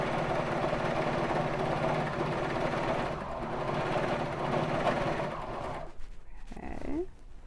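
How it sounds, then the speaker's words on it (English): Baby Lock Vibrant serger stitching knit fabric for a crewneck sweatshirt, a loud, fast, continuous mechanical chatter close by that runs for several seconds and then stops, followed by faint handling noises. "I just really love how this serger cleans up the edges, especially on knit fabrics."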